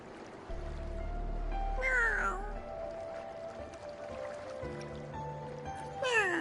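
A cat meows in the video game Wuthering Waves: a drawn-out meow rising then falling in pitch, then a shorter meow near the end, over quiet ambient game sound.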